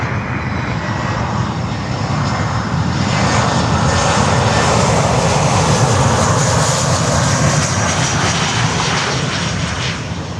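A LATAM jet airliner in special Colombia flag livery at Miami airport, arriving from Bogota, roars loud and continuous as its engines pass, swelling slightly in the middle and easing toward the end.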